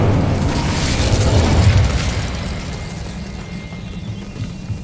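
Incendio fire spell cast in the Hogwarts Legacy video game, a loud whooshing burst that swells over the first two seconds, then settles into a rumbling tail that fades gradually.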